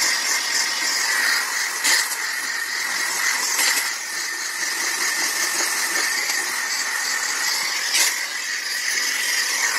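A McCulloch 1385 steam cleaner steams in a continuous loud, broadband hiss lasting the full stretch, with a few brief sharper bursts and no talking.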